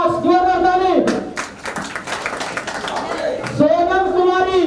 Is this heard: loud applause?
yes